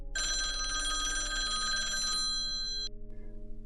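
A telephone bell rings loudly and continuously for nearly three seconds, then stops, leaving a quiet background.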